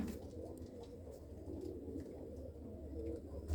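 A large pigeon coos softly in a loft, a few low, rolling calls close by against quiet background rustle, ending with a brief thump.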